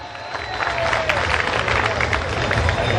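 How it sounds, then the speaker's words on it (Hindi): Audience applause fills a Marwari comedy poetry gathering, a steady wash of many hands clapping with crowd murmur, holding loud and even throughout. "आप पूरा सदन एक बार तालियां बजाएं।"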